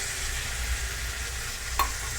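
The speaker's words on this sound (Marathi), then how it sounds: "मी आता हे टोमॅटो टाकून घेणार आहे." Tomatoes sauté in oil with masala for bheja fry, giving a steady, close sizzle with a single brief clink of a utensil near the end and no voices.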